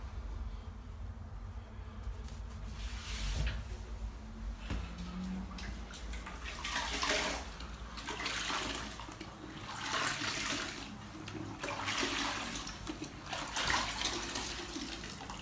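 Water runs and splashes steadily in a shower during rinsing after caulking, a continuous rushing wash with surging bursts, close and loud throughout.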